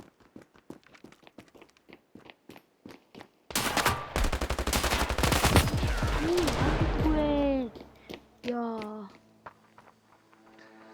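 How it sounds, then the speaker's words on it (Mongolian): Automatic rifle gunfire in a video game: scattered single shots, then a loud sustained burst of rapid fire, with a shorter burst after it and tonal game sound effects over the firing. "автоматар анилдаг буу болохоор энэ маш гоё сайн буу гэх юм да"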